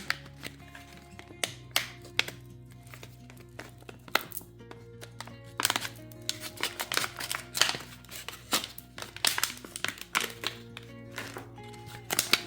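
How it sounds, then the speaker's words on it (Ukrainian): Close, crinkly rustling and sharp tapping clicks from unpacking an SM Technology SMT-36/360 bactericidal irradiator from its packaging, irregular bursts over a low steady hum. "Зараз один відкрию."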